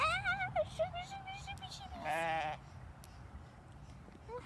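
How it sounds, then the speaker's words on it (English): Sheep on a small farm bleat close by in several wavering calls, one long and loud, with quieter background noise between them. "I want to show them the sheep."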